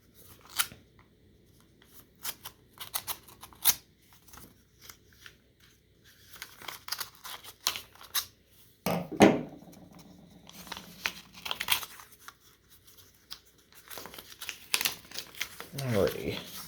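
Paper envelopes holding WW2 militaria being opened by hand, with sharp crinkles, snips and tearing rustles arriving in uneven bursts close to the microphone, and some speech mixed in.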